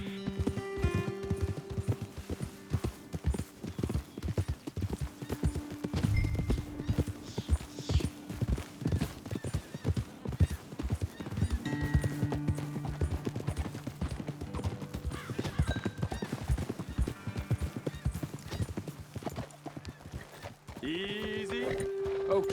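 Horses clip-clop steadily at a brisk pace across a Red Dead Redemption 2 landscape, with a snort or whinny mixed in and background game ambience and music throughout.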